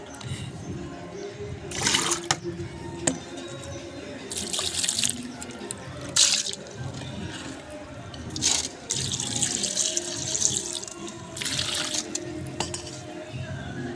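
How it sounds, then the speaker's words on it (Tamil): Murrel fish being washed under running water, a steady splashing tap flow with repeated louder bursts as the fish is rinsed and handled, fairly close. "நல்லா மூணு தண்ணி நாலு தண்ணி வச்சு நல்லா கழுவிடுவோம்"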